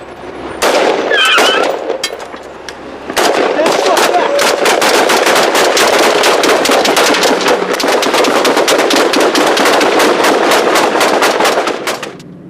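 Sustained automatic gunfire from a US patrol in Iraq, loud and close, with a brief burst followed by a long continuous rattle of rapid shots that stops abruptly.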